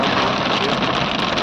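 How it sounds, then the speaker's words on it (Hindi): Heavy rain pours down on the road to Shimla in the hills, a loud, steady, dense hiss with no breaks. "आप देख सकते हैं बारिश चल रही है"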